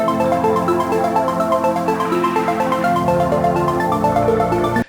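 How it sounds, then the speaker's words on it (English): A sustained Serum 2 synth pad with a busy arpeggiated pattern layered on top, steady and loud, ending abruptly. "I just went overboard and just laid it with these arps, and that sounds like this."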